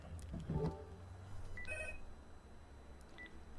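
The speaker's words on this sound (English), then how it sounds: "I've got a phone call" A telephone rings with short electronic trill bursts over a steady low hum, fairly faint and with no voices.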